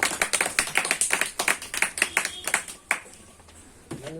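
Audience applause at a meeting comes as a quick burst of overlapping claps that thins out and stops after about three seconds, followed by a brief voice and a short electronic tone.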